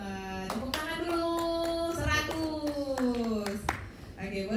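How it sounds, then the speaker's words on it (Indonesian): At an International Sign Language Day event, an audience claps in scattered sharp hits while a voice with a sustained, sung or drawn-out tone carries over the clapping. "Tepuk tangan dulu"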